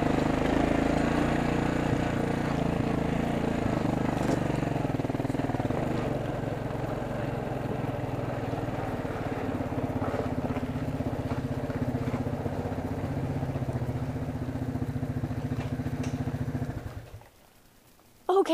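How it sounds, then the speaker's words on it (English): Steady engine drone of a four-wheeler ATV carving through trails, continuous and fairly loud with rumbling low tones for most of the ride before cutting out near the end. "I hope you enjoyed coming on a ride with me on my four-wheeler and carving out some of my trails"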